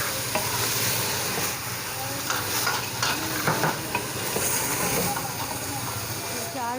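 A spoon stirs minced meat keema with black-eyed peas (lobia) in a pan, scraping steadily over a constant sizzle with several louder clatters, close and loud.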